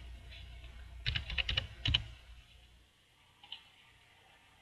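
Typing on a computer keyboard: a quick cluster of close key clicks, then a second short burst and a couple of faint taps after a pause, in a quiet room with no talking.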